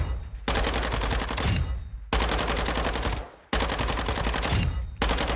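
Automatic weapon fire from Warzone 2 comes as loud, close bursts of rapid shots. Three long strings of fire are broken by short pauses, and a fourth burst starts at the end.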